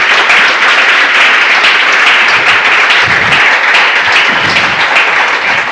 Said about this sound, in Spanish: para animaros, un aplauso